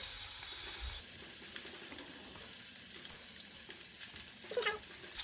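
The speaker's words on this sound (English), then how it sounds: "And keep the steak pressed down to get a nice even sear." Steak searing in a hot oiled pan while pressed down, a steady moderate sizzle with crackles and brief louder spits, no talking.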